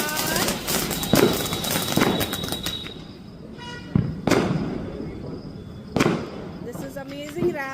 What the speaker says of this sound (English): This is amazing rabbit firecracker.